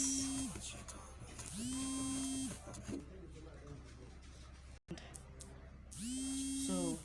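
A sewing machine stitches pieces of a pencil skirt together in three bursts of steady whirring, each starting and stopping cleanly, with quieter handling noise between them.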